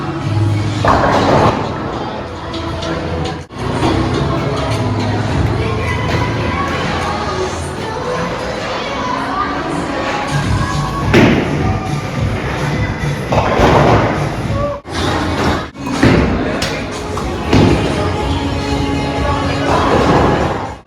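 Bowling balls thud down the lane and knock into pins at a mall bowling alley in Jodhpur, with repeated heavy thumps and clatters throughout a noisy hall where people talk and cheer.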